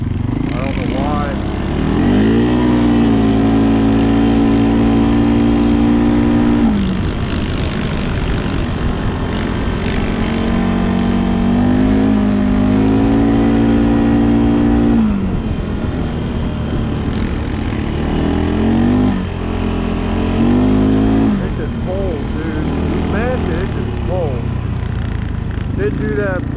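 A 2025 CFmoto CForce 600 ATV fitted with an RNG full clutch kit, its engine droning loud and close while revving up and dropping pitch through several upshifts, with a rider's voice heard briefly over the engine.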